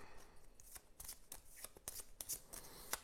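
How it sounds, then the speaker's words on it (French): Playing cards from the board game Nemesis being drawn and handled: soft, quiet papery slides and crisp flicks in an irregular rhythm, close up with no talking. "Alors, allez, je prends 2 cartes."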